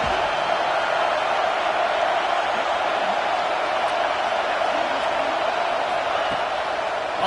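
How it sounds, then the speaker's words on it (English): A home crowd in a football video game roars in a steady, dense wall of cheering that holds at full volume throughout with no breaks. "how nice is it to have the home crowd going absolutely bananas?"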